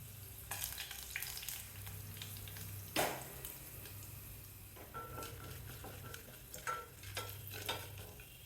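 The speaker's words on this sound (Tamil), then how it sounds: "எண்ணெய் சூடானதும் கடுகு, கடலைப்பருப்பு, முந்திரி பருப்பு எல்லாம் ஒன்று ஒன்றா போட்டு தாளிச்சிட்டு" Mustard seeds, chana dal and cashews temper in hot oil for millet upma, giving a faint, steady sizzle with occasional stirring scrapes and one louder clank of a utensil near the middle.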